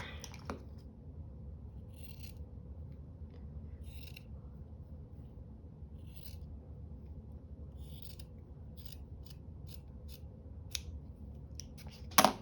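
Scissors snip through paper during a paper craft project, making quiet, crisp cuts in scattered short bursts over a low steady background hum.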